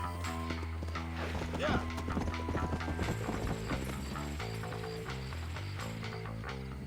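Horse hooves clip-clop at a steady trot in the Red Dead Redemption video game, the rhythmic beats heard alongside game music and a voice talking over them.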